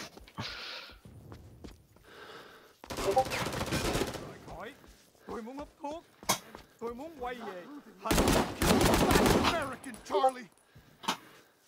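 Video game gunfire, including 40mm buckshot, in several loud bursts of rapid shots mixed with other combat noises, while players talk over the action.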